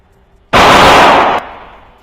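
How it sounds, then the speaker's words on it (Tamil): A single firecracker bursts loudly and close, a sharp blast followed by a sustained crackling roar lasting nearly a second before cutting off abruptly, with no talk. "இந்த வெடி எப்படி வெடிக்குதுன்னு நம்ம பார்க்கலாம்."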